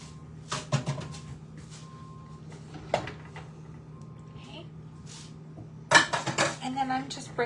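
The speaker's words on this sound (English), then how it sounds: "And then I'm just breaking up the tuna, mixing things together." Tuna being broken up and stirred in a pan for a hot tomato salad, giving scattered clinks and scrapes of a utensil against metal, with a sharper burst of clattering near the end over a low steady hum.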